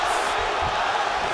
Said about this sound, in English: Big pop from the crowd as they get back to their feet after a pretty scintillating grappling battle there on the ground